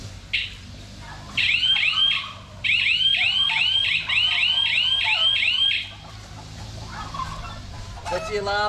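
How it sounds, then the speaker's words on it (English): Electric fence alarm going off when goats touch the fence: repeated chirping electronic warble in two long bursts, loud outdoors over low rumbling background, with faint voices nearby. "That's the alarm to say that they've hit it."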